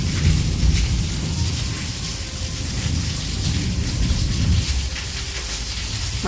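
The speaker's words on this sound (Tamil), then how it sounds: "பாருங்கள், எங்கள் ஊரில் நல்ல மழை" Steady, heavy rain pours down in a dense hiss, with low rumbles of thunder rolling underneath, no voices.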